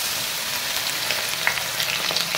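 A large onion sizzles in about a cup of hot oil for a mixed vegetable dish, a loud continuous hiss with scattered crackles and pops, no voices over it.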